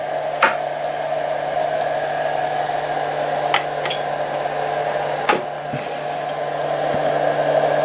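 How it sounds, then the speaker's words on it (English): A battery charger hums steadily on direct solar power, a constant tonal drone with a few brief clicks and ticks over nearly eight seconds. "Now let's plug in a second battery charger"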